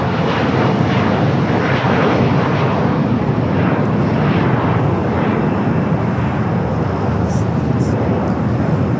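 A Boeing Dreamliner rolls for takeoff on runway 25 right at LAX, a steady loud engine roar holding for several seconds with no voices.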